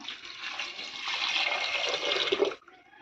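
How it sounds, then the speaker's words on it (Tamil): Water pours steadily in a rushing stream into a cooking pot for a couple of seconds, then cuts off abruptly. "தேவையான அளவுக்கு வந்து தண்ணி சேர்த்துக்கலாம்"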